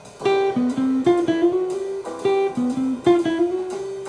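A jazz line built on continuous chromaticism, Essential Jazz Pattern 7, played as two similar phrases of short, clear notes stepping by half steps, heard alone with no talking.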